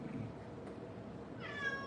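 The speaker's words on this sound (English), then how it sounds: "Kitty meows." A house cat meows briefly near the end of the clip, a short tonal cry over a steady low background hum.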